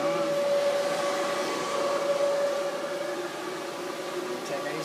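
A Toro Dingo 1323 compact loader runs with a Harley rake attachment, giving a steady, loud mechanical whine and drone throughout with no pauses.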